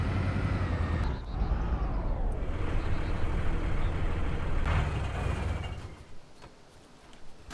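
A bus engine in the DayZ video game rumbles loud and close with deep low drone, pitch sweeping as it drives, then fading and dropping away near the end.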